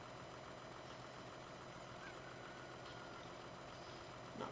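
A tractor engine idles in the Farming Simulator 19 video game, a steady low drone that stays constant and fairly quiet throughout, with no one talking.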